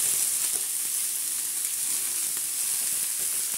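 Amaranth greens with onion sizzling on a hot griddle in a village-style kitchen, a steady close hiss of frying that holds evenly throughout with no voices.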